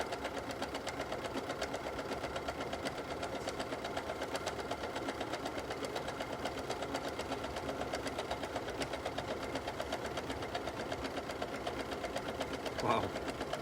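A Pfaff Quilt Ambition 630 sewing machine sews a tight satin stitch, its needle chattering in a fast, even, continuous rhythm at close range throughout, with faint speech in the background.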